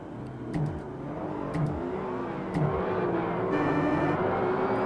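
TVR car in the Forza Motorsport video game accelerating hard, engine revving up through rising gear pulls with brief shift dips, steady and fairly loud, no talk.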